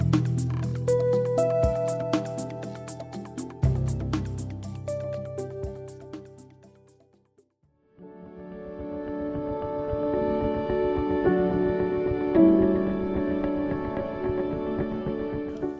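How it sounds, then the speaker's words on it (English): Beautiful, haunting musical score for the Hollow interactive documentary website, with sustained layered tones and a brief near-silent gap midway before a fuller, steady passage resumes. "What you're hearing is the beautiful and haunting score for the website HolloDocumentary.com."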